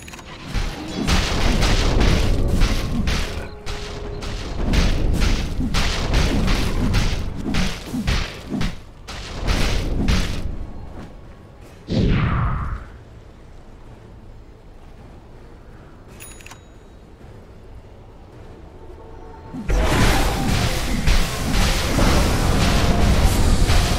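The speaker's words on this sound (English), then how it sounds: "Dire's middle tower is under attack." A Dota 2 tower under attack, with a rapid run of loud thumping impacts and whooshes, then a swishing sweep, a quieter stretch and a renewed burst of heavy hits.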